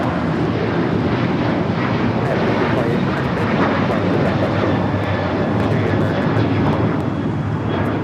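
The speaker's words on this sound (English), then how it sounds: "That was American Airlines Flight 1528 heading to Dallas, Fort Worth, Texas in the 737-800." An American Airlines Boeing 737-800 bound for Dallas Fort Worth roars steadily at Los Angeles airport, a loud broadband jet rumble that holds constant throughout with faint talk beneath it.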